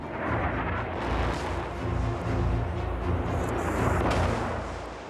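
Heavy, rumbling explosions and booming blasts from NATO airstrikes bombing Sarajevo, a loud, sustained roar of bombardment with overlapping low thuds and no talking.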